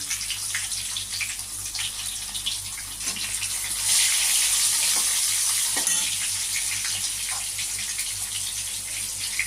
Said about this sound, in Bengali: এর মধ্যে আমি টমেটোগুলো ছেড়ে দেবো